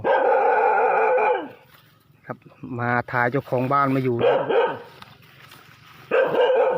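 A dog barks several times in a Thai garden among white ixora shrubs, with clear, fairly close harmonic barks at the start, middle and end, while someone talks in between.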